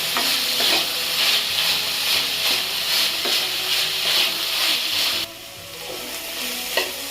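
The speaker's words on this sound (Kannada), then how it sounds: "ಈರುಳ್ಳಿ, ಕ್ಯಾಪ್ಸಿಕಮ್ ಚೆನ್ನಾಗಿ ಹಾಕ್ಕೊಂಡು ಮಿಕ್ಸ್ ಮಾಡಿ" Sliced onion and capsicum tossed and frying in a pan for vegetable fried rice: a loud, steady sizzle with stirring scrapes, dropping off abruptly near the end before a final clink.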